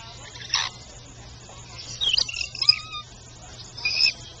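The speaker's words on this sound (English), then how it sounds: "I never fed birds like this before, and they came to me." Birds being fed by hand give short, sharp chirps and tweets in scattered bursts, close by over a quiet background, with some faint human sound in between.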